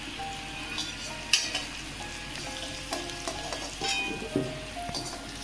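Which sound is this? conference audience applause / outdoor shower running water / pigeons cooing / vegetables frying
vegetables frying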